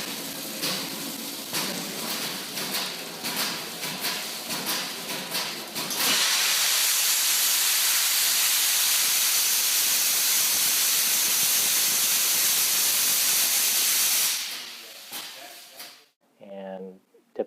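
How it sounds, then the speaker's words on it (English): A hydrostatic test machine blows clean air through a fire-extinguisher cylinder to dry it after hydrotesting and a hot-water rinse. Pulsing hisses give way to a loud, steady rush of air for about eight seconds before it tapers off. "pump hot water in it to dry it, and then clean air to steam out any of the moisture"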